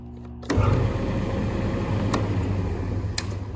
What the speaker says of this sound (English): this is my big angry dual drum sander